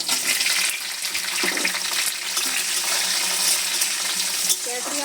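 Chopped capsicum frying in hot oil alongside paneer, a steady dense sizzle with stirring scrapes throughout, close and loud with no talk.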